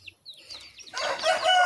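A chicken on a Filipino backyard farm gives soft, faint clucks and chirps, then a louder, throatier run of clucking that lasts under two seconds.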